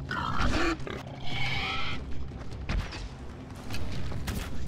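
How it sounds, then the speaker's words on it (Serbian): A wild boar in the video game Far Cry Primal grunts and squeals in several rough, close bursts against a low game ambience. "Aj, evo ga ovaj bor. Divlja svinja."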